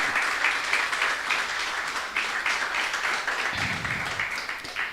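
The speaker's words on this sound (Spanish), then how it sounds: "¿Qué tal si usted le regala un fuerte aplauso al Señor?" A church congregation gives strong applause to God during a Sunday service, a thick, steady wash of many hands clapping that carries on throughout and eases slightly toward the end.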